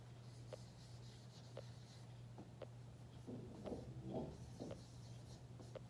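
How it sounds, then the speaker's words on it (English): Writing on a board while working a line plot: soft, faint scratchy strokes come in short separate bursts, with no talking over them. "I'll write it up here."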